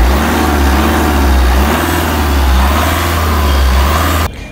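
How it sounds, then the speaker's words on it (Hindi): Tata Harrier diesel engine revving, heard from outside the vehicle: a loud, steady, deep engine drone that holds for about four seconds and then cuts off abruptly. "और एक बार आप रेव करना हल्का सा इंजन में"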